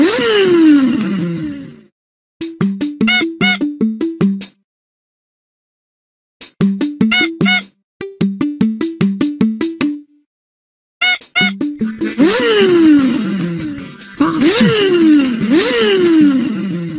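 Cartoon stop-go car from a children's show revving in bursts: loud sweeping engine whines at the start and end, with bouncy stop-start sputtering phrases between short silences.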